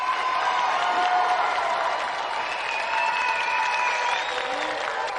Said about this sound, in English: Another round of applause for David Finch.